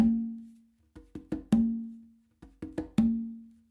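Conga drum pattern in which ringing open tones on the tumba are each preceded by small clusters of quick taps, repeating twice in a steady, close rhythm without any speech.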